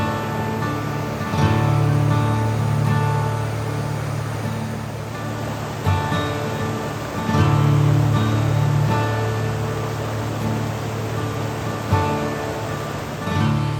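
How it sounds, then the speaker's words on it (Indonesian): A wide, fast river lined with pine trees in the Mount Leuser highlands of Aceh, at about 1,700 m, roars with a steady, loud rushing wash, swelling now and then with deeper surges. "sebuah sungai deras nan luas dengan deretan pinus menghiasinya"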